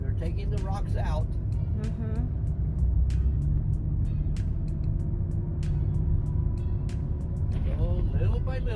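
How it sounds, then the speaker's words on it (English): Heavy trucks hauling rocks out of a dig site in Yosemite National Park rumble with a deep, continuous engine drone, while people talk nearby over the noise. "The trucks, they're taking the rocks out."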